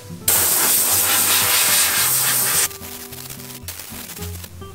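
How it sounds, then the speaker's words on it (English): An air gun blasts a sanded car headlight dry, a loud, close hiss of compressed air lasting a couple of seconds, then cutting off into quieter shop noise. "you can also use the air gun to kind of dry it off"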